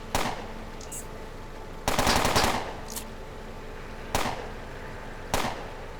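Gunshots in the Underrail video game: sharp, loud single reports and one short rapid burst, spaced apart with quiet gaps between them.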